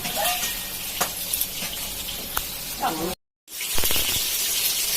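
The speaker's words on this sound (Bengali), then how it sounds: "এই দেখো তোমাদের দাদা ভাই মাংস রান্না করছে" Meat frying in a pan at home, a steady sizzle with stirring clatters and scrapes, a short silent gap, then continued sizzling, with faint voices in the background.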